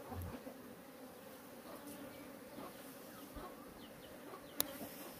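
Honey bees buzz at a hive about to swarm, with drone comb built outside, at a remote shelter in mountain forest: a dense, steady, close droning hum runs throughout with occasional faint knocks.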